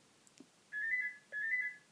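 A phone rings indoors in two identical electronic trill bursts, each lasting about half a second with a short gap between them. The ringing is fairly faint against a quiet room.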